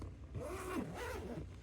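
A zipper on a trading card binder is pulled open in one smooth, close, quiet rasping run lasting just over a second, with no talking.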